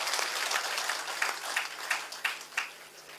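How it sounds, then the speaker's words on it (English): Audience at a valedictory session claps steadily for about three seconds, a dense patter of hands with a few louder swells, with no talking over it. "by clapping you scored it"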